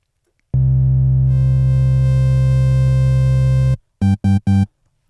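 A synthesizer tone sounds alone, sustained, loud and buzzy for about three seconds, brightening as a detuned, piercing third oscillator is mixed in, then cuts off and returns in three short stabs.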